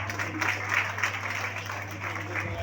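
Audience applause at a stage event, a dense, steady wash of many hands clapping at moderate loudness over a low constant hum, with no voices standing out.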